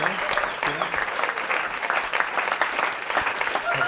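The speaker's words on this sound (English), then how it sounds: "all of this applause is for you" Audience at a stage hypnosis show applauding steadily, a dense wash of clapping at even loudness throughout with no voice rising above it.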